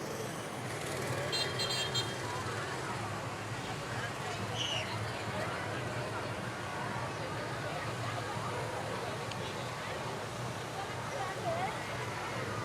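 Cars passing in the 64th annual Pumpkin Festival parade, a steady roll of engine and road noise with a crowd murmuring throughout and brief horn toots near the start.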